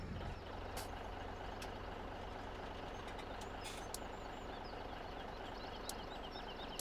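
A truck reverses in Farming Simulator 17 with a steady engine drone and a faint, repeating backup beep over continuous low rumble, no talking.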